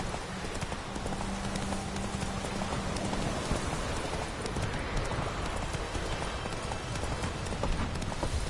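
Roach, the horse in The Witcher 3, gallops with a steady, rapid clip-clop of hooves, loud and close, over a dense, rain-like wash of noise.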